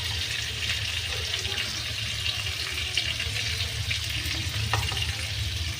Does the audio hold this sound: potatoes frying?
yes